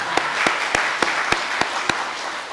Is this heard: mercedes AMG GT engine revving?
no